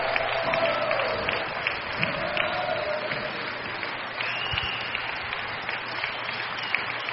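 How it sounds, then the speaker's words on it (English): A crowd at a racquetball semifinal in Kansas City applauds in a continuous, even roar of clapping and cheering that stays level throughout, sounding somewhat muffled and distant. "Listen to the crowd, ladies and gentlemen."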